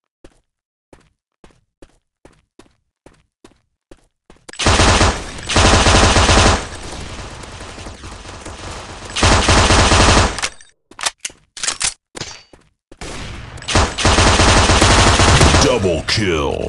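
Automatic gunfire bursts from Maskgun, a mobile shooter game, loud and dense, with several long sustained sprays and short volleys after a run of single soft footsteps or thuds at the start.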